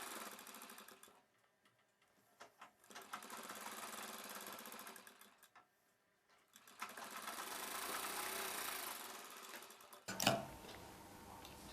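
A sewing machine stitches a blouse joint in short, close bursts of rapid mechanical ticking and whirring, separated by pauses. A longer run comes near the end, followed by a sharp clatter.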